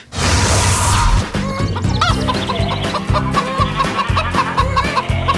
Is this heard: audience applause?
no